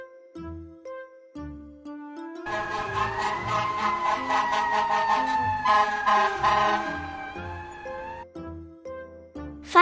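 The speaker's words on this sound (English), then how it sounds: "Fire truck." Fire truck siren wailing in a steady rising-and-falling tone for several seconds, loud and close, with a light musical backing before and after; no voices.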